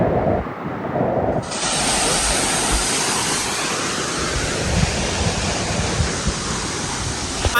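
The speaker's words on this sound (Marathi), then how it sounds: "खूप जोराचा वारा आणि पाणी आहे" Strong wind and rushing water at Bhagirathi waterfall, a dense, steady roar of falling water with gusty wind buffeting the microphone, loud and continuous from start to finish.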